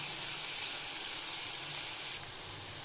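Onion, green chili and curry leaves sautéing in hot oil for a wedding-style vendakkai pachadi, giving a steady, close sizzling hiss that drops slightly quieter near the end, with no talk.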